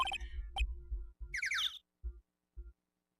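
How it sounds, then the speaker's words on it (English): A burst of bright, chirpy bird calls in Phoenix Wright: Ace Attorney, a short fluttering series of squawks rising over background game tones and a muffled low rumble, followed by two brief soft thumps. "What is that bird sound?"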